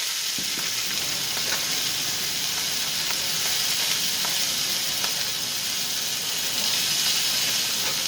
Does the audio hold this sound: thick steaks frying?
yes